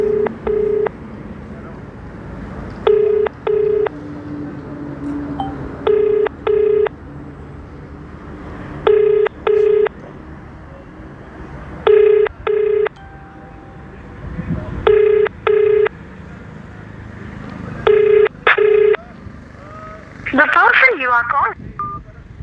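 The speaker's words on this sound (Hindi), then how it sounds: "दोबारा हम कोशिश करेंगे फ़ोन मिलाने की" A telephone number is dialled as paired DTMF tones in short, evenly spaced bursts, with quiet background noise between them and a brief louder sound near the end.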